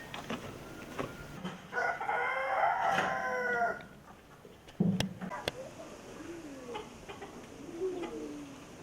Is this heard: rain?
no